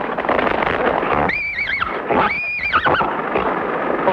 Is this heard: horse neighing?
yes